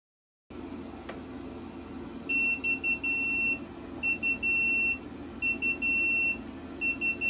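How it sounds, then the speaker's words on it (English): An Inkbird ITC-306A WiFi aquarium temperature controller sounds its overheating alarm, repeated bursts of high electronic beeps in steady groups over a constant background hum of water and equipment. "I guess we can put the alarm on."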